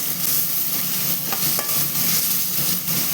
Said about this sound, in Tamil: இப்போ எண்ணெய் சூடானதும் நம்ம வெங்காயம் போட்டுக்கலாம். வெங்காயம் நல்லா வதங்கட்டும்.